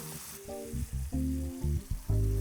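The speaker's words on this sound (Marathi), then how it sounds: "आपण जे काटेरी वांगी घेतली होती आणि त्याचे तुकडे करून घेतले होते आणि बटाट्याचे तुकडे हे त्याच्यामध्ये ॲड करायचे" Spiny brinjal and potato pieces fry in a hot pan, giving a steady sizzle that fills the clip with no talking.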